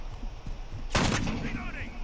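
A single loud, close gunshot burst rings out sharply over a low background, then decays into a brief echoing tail.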